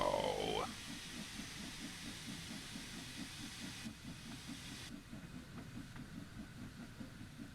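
Steady, fairly quiet steam hiss with a soft rhythmic chuff underneath from a Cornish steam locomotive in Train Sim World 3, running continuously with no voices.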